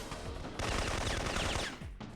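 Rapid automatic fire from a PK-102 machine gun in the video game Syphon Filter, a loud continuous burst of closely spaced shots lasting about two seconds, with a brief pause before a final shot.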